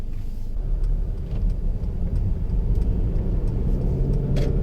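Mercedes C200 sedan, 2017 model, pulling away gently after being put in drive, a soft low engine hum and road rumble from inside the cabin with a few faint ticks, steady and quiet.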